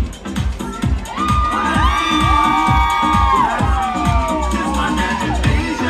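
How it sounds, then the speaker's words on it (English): A crowd whoops, cheers and shouts loudly and continuously at an ICN state championship bikini competition, with high voices and whistles rising over the din throughout. "Give him a big round of applause, ladies and gentlemen, as they come on stage."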